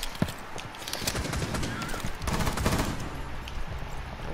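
Gunfire in the game Rainbow Six Siege, with dense rapid bursts and scattered shots filling a busy battle mix, fairly loud and continuous with no clear pauses.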